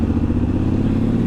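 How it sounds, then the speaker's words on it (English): Triumph Scrambler 1200 XE parallel twin with a 270-degree crank thrums steadily at close range, a continuous low engine drone with no voices over it. "It's got that thumping parallel twin, the 270-degree crank."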